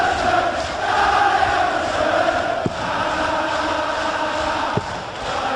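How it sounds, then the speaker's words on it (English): A packed darts crowd at a 2012 Premier League match between Gary Anderson and Andy Hamilton sings Anderson's name in a sustained, loud communal chant, with a couple of brief thuds breaking through. "the crowd, every single one of them singing his name"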